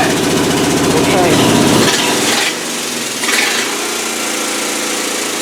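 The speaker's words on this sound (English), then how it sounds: "Put it in gear and start it. He's gonna try to start it in gear." A Mazda engine in a home car build cranks and runs, a rough, buzzing mechanical drone with a rattling start that settles into a lower uneven idle, close and loud, with people talking nearby.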